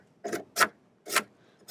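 A hand rasp grates damaged wood on a vintage 1980s Williams Joust arcade cabinet, with four distinct, evenly spaced scraping strokes, close and crisp against near silence.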